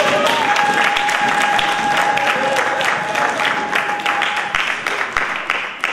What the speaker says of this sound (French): Est-ce que quelqu'un peut donner une main d'acclamation pour ça?